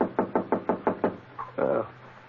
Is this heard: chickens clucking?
no